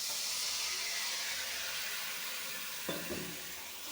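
Water poured over cumin and coriander powder frying in a pan, for hilsa fish curry with taro and potato: a loud, steady hiss with a sharp bubbling burst near the end.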